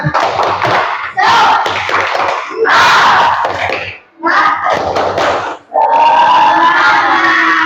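A group of schoolchildren at a primary school does a rhythmic spirit clap in bursts, loud rhythmic hand claps mixed with chanting voices, pausing briefly between rounds.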